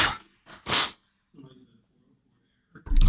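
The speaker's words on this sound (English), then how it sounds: "There's a sneeze like right here too" A person sneezes once, loud and close, with sharp bursts of breath around it and a short gap of quiet between.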